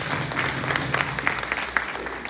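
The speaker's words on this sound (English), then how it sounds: "Can you please clap hands for Love Howick?" Applause from an audience at a women's conference hosted by a municipality, steady even clapping with occasional sharper hand claps throughout, fairly close and sustained.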